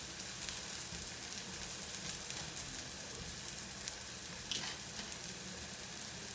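Onions sizzle and fry steadily in a pan, a continuous close crackling hiss with small pops and no talking.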